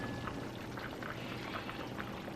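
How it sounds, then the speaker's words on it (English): A pot of beans simmers on the stove after about an hour of cooking, a steady bubbling and gurgling wash of liquid with soft pops, continuous and fairly quiet, with no talking. "Definitely simmering and bubbling."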